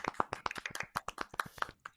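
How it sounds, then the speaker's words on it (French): A handful of close, distinct hand claps for a guest on a football talk show, sounding sparse and uneven like a small group clapping rather than a full crowd. "Un tonnerre d'applaudissements"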